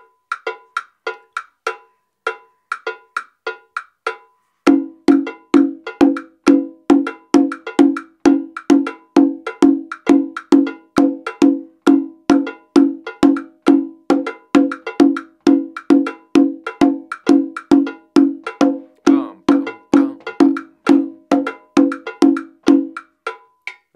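Conga drum played in a steady dotted-quarter pattern, sparse hits for the first few seconds then a dense, driving stream of sharp, resonant strikes for the rest, loud and close with no talking.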